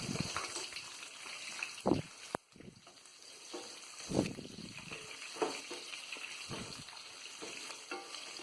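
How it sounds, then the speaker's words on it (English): Chopped onions dropped into hot oil with cumin and mustard seeds for a bitter gourd curry, a soft ongoing sizzle with a few sharp clinks and stirring scrapes, close and fairly quiet, with no talking. "Now I am adding chopped onions."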